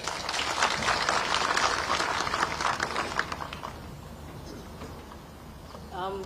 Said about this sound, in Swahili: Tumpigie makofi ya kika